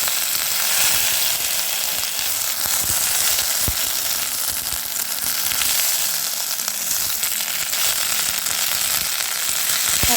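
Young pumpkin leaves sizzle steadily in hot mustard oil, a long, close, crackling hiss with scattered pops and faint stirring clicks from start to finish.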